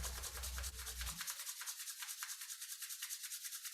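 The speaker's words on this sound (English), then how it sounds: "rub your hands together until they're nice and warm" Palms rub briskly together to build warmth during qigong practice, a close, rhythmic swishing friction repeating in quick even strokes with no talking.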